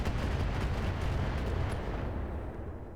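Heavy weapon salvo from a giant mech in the video game Battletech, a dense, loud rumbling barrage of overlapping booms that carries through the whole stretch and thins slightly toward the end.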